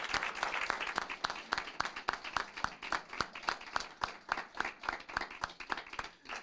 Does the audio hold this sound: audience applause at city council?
yes